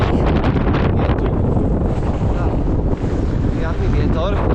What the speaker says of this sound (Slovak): riadny vietor.